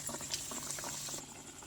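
Prawn bread vadai, dipped in maida batter and coated in breadcrumbs, bubbles in hot oil with a soft, continuous frothy sizzle, faint and steady throughout.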